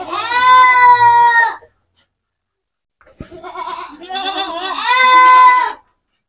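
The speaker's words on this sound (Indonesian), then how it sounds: "Ini peranakan etawa." An Etawa crossbreed goat bleats loudly and close, two long wavering calls separated by a few seconds of silence, with a short knock just before the second call.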